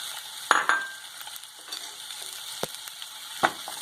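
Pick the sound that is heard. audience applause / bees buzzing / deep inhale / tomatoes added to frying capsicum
tomatoes added to frying capsicum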